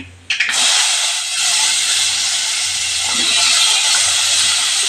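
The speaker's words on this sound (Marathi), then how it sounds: "आता आपण ही तोंडली फोडणीला टाकणार आहोत" A sudden loud hiss as ivy gourd hits hot oil tempered with asafoetida, cumin and turmeric, then a steady, bright sizzle that continues close and strong to the end.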